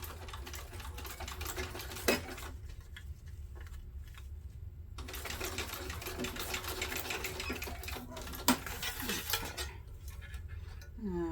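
Sewing machine running in bursts while top stitching tabs on backpack fabric, a steady rapid whir broken by pauses and a couple of sharp clicks, close and alone.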